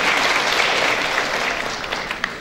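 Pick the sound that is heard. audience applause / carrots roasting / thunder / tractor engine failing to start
audience applause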